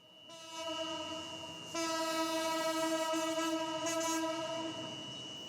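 Train horn blaring on a railway line, a loud sustained harmonic blast that pauses briefly and sounds again, with faint train rumble beneath.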